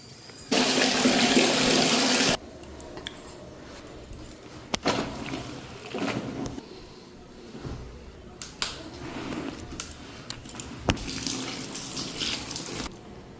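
Water gushes loudly from a tap for about two seconds, then quieter splashing, sloshing and handling sounds follow as clothes are soaked, close by with no talk.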